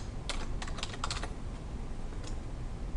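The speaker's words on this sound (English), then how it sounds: "type your name, hit enter, and then type Chief" Typing on a computer keyboard: a quick burst of crisp, close key clicks, then a pause and a few more taps. The clicks are fairly quiet and come alone over faint room noise, with no talk.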